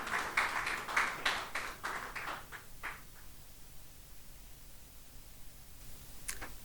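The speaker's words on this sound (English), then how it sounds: "Round of applause for him" Applause from a conference audience in Nigeria welcoming the Special Advisor on Power to the stage, a burst of clapping that fades out over about three seconds, then near silence with one faint tap.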